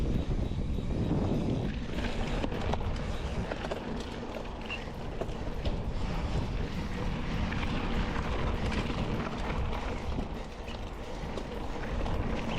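Dirt bike engine revving and accelerating along a race course, a loud continuous close roar with wind buffeting over the microphone, steady throughout with slight dips in intensity.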